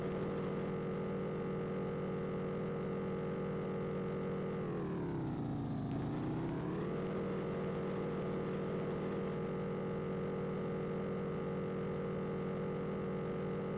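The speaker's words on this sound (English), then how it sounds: "And that engine sound isn't great." A synthetic engine drone from an Amiga coverdisk racing game: a steady buzzing hum that dips in pitch for a moment and then climbs back, continuous and alone with no talk.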